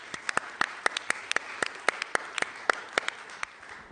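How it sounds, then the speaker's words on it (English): A brief, sparse round of applause at an academic colloquium: a few people clapping in distinct, sharp, fairly quiet individual claps rather than a full crowd. "We'll have a quick round of applause."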